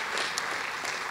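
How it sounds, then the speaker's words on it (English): Applause from an awards dinner audience, a brief, steady burst of many hands clapping at moderate distance, with no speech. "give him a round of applause"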